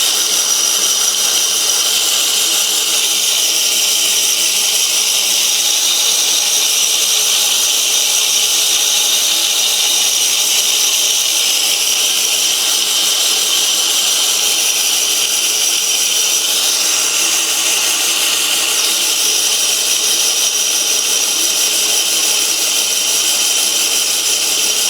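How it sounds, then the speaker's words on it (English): A Toro Greensmaster Flex 21 reel mower is backlapped with grinding compound, a continuous high, sandy grinding hiss from the spinning reel that stays steady and loud for about twenty-five seconds with no voices. "you want to do that until you stop hearing that sandy like grinding"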